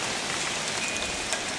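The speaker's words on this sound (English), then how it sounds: "Oh, it's just raining." Rain during Hurricane Irene, a steady hiss of drops hitting surfaces close by, unbroken for a second and a half with no talking.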